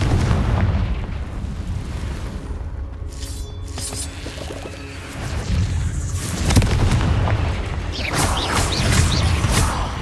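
Confringo blasting curse explosions in Hogwarts Legacy, heavy rumbling booms and crackling bursts layered over continuous loud game sound, with no break between them.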